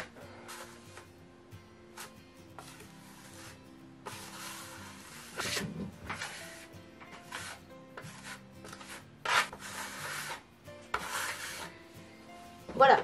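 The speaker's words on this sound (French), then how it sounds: "Donc, allez, première couche, on enduit" A trowel spreads the first coat of decorative render over aerated concrete blocks, giving soft repeated scraping and rubbing strokes in irregular bursts, close and fairly quiet.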